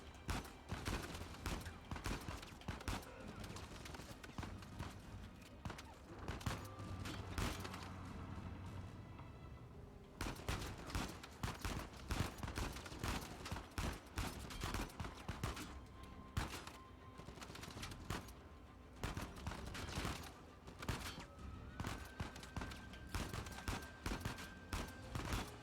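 Rapid gunfire from a third-person shooter game in the Uncharted series, with dense bursts of shots and impacts running almost continuously, briefly easing mid-way before resuming loud and busy under game music and effects.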